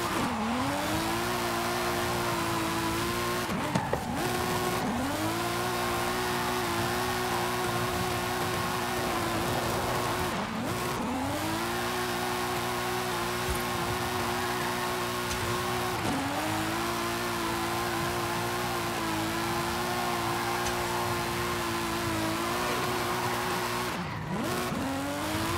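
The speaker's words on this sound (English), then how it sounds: "being able to drift a car with a stock engine on this game is just nice." A 2005 BMW M3 with a stock engine drifting in the video game Forza Horizon 5, engine revving and holding in repeated surges with tire squeal, each burst dipping briefly at gear shifts or corner transitions.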